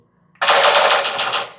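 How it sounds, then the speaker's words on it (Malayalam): The Eilik toy vehicle fires its gun sound effect: one loud electronic rapid-fire burst that starts suddenly and rattles on for just over a second, with no other sound around it. "ഇവിടെ പിടിച്ചമർത്തുമ്പോൾ വെടി വയ്ക്കുന്നുണ്ട്."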